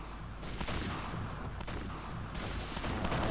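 Dense gunfire from the video game PointBlank rattles in a sustained burst of overlapping shots, fairly faint and muffled over a steady rumble, with no voices.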